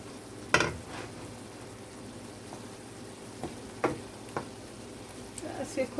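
Saltfish frying in a pan with a little butter, a soft steady sizzle under scattered clanks and stirring taps from a utensil, with no voices.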